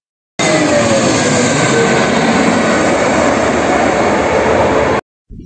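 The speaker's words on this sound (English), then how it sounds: "Aeroplane. Aeroplane." An aeroplane's engines give off a loud, steady broadband roar that holds unbroken for about four and a half seconds, then cuts off abruptly.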